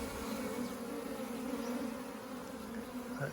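A swarm of honeybees from a colony split with a virgin queen buzzes in a dense, continuous drone, close and steady, with no voices.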